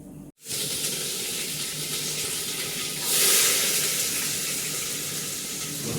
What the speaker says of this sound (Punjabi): ਤੇਲ ਆਪਣਾ ਗਰਮ ਹੋ ਗਿਆ ਕੁੱਕਰ 'ਚ ਤੇ ਜੀਰਾ ਪਾ ਕੇ ਲਾਣੇ ਤਾਂ ਚਾਵਲਾਂ ਤੜਕਾ